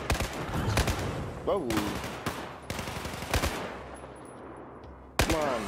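Automatic gunfire and explosive blasts in the video game Battlefield 4, loud sharp bursts repeating through the scene with a player shouting over the shooting.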